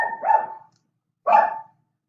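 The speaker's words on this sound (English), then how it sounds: "Sorry about the dogs barking in the background." Dogs barking indoors in the background: two loud, separate barks about a second apart, with silence between and no talk over them.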